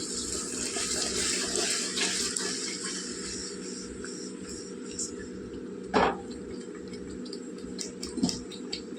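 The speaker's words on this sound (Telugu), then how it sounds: "పెద్ద నిమ్మకాయలతోటి చింతపండు పులుసు తీసుకొని వేసుకుందామండి. ఒకసారి అయితే కలుపుకోవాలండి." Tamarind extract is poured and stirred into pieces of fish for a fish curry, with soft liquid trickling and swirling under a steady hum, plus a couple of sharp clinks of a utensil.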